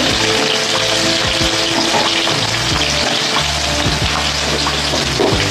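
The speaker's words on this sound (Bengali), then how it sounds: "আলুগুলো আমি ভেজে নিই বন্ধুরা লাল লাল করে" Potatoes fry in hot oil for a curry with turnip or kohlrabi, giving a steady, dense sizzle that stays loud and even throughout, with occasional faint clinks and scrapes and no talking.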